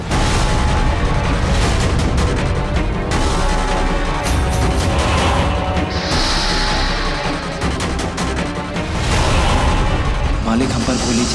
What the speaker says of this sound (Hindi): मालिक हम पर गोली चला रहे हैं